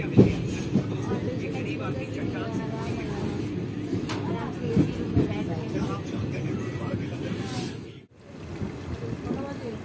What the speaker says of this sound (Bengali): এবার ট্রেন তার নির্ধারিত লক্ষ্যে প্রবেশ করছে।